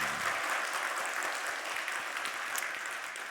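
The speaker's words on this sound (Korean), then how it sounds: "마음 담아 박수하도록 하겠습니다" A church congregation at a Sunday service applauds newly registered members, a soft, even patter of many hands clapping for a few seconds.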